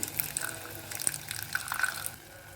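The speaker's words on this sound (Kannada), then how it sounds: "ಇದಕ್ಕೆ ಸ್ವಲ್ಪ ಹುಣಸೆ ರಸ ಹಾಕ್ತಾ ಇದ್ದೀನಿ" Tamarind juice poured into a pan of frying ingredients for a village-style multigrain recipe, a faint gushing, dripping liquid splash with light clinks, quiet and close.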